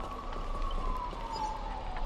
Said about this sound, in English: I hear a police siren in the game